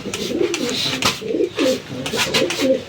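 Brooding pigeons in a loft coo in a series of soft, throaty, rolling calls, repeating close by with short pauses between them.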